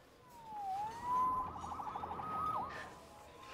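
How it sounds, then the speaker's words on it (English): A wailing electronic siren in the video game Spider-Man Remastered sweeps down then holds a steady high tone, with a rapid warbling burst in the middle, fairly loud and close. "Saved by the siren."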